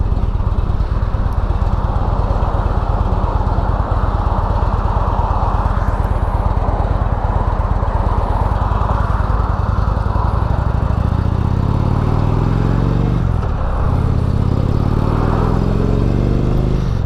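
A 2016 Indian Springfield motorcycle with stock pipes rumbles steadily and fairly subdued while riding, with a low engine drone and wind running throughout, and a gear change or shift in pitch near the end.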